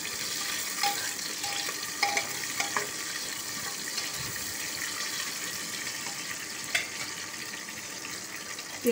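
Onions fry in oil in a pan while making black chickpea chole, a soft continuous sizzle with occasional clicks and scrapes of stirring, close and fairly quiet.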